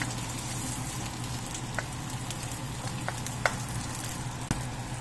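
Onion and garlic fry in a pan with a constant soft sizzle, broken by a few light taps and clicks of a stirring spoon.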